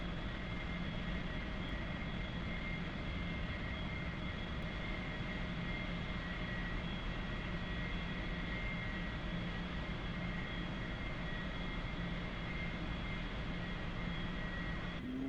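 Steady, loud drone of an A-4 Skyhawk jet engine heard from the cockpit during a climb. The dense, unbroken roar carries faint sustained tones and holds even throughout, with no talk.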